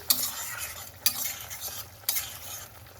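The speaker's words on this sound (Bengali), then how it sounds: "বাটারটা একটু গুলে নিচ্ছি" A spoon stirring butter into a simmering masala sauce with tomato and paneer, giving three crisp scrapes against the pan roughly a second apart over a soft bubbling sizzle.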